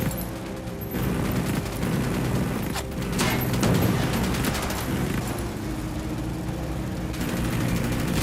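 Gunfire rattles through a firefight in the tactical shooter Ghost Recon Wildlands, with dense bursts and booming shots over a constant rumbling background mix.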